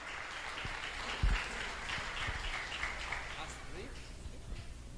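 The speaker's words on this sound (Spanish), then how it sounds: "um forte aplauso para juffrouw Ghislaine" An audience at a preparatory school graduation ceremony applauds for a teacher, a steady, dense crowd clapping heard from some distance with a few louder thumps near the microphone and voices mixed in.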